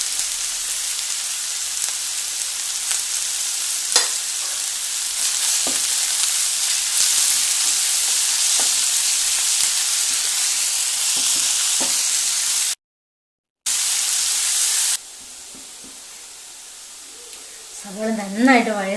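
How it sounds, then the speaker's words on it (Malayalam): Onions sautéing in a pan and being stirred, a steady broadband sizzle with scattered scrapes running most of the way through, briefly cutting out near the end while a voice and other sounds come in at the close. "നല്ല ബ്രൗൺ കളർ ആവുന്നിടം വരെ ഒന്ന് നന്നായിട്ടൊന്ന് വഴറ്റിയെടുക്കണം"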